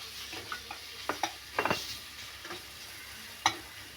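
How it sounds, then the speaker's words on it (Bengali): Marinated chicken laid into a little hot oil for chicken mughlai makes a soft background sizzle, broken by a cluster of sharp spatters and knocks and a few scattered clicks. No talking is heard. "তেল গরম হয়ে গেছে, আমি চিকেনটাকে দিয়ে দিচ্ছি।"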